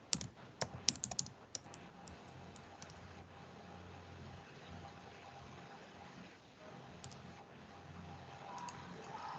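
A burst of quick keystrokes on a computer keyboard comes first, then sparse, faint taps over a low room hiss, with no voices.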